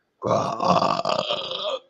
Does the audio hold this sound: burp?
yes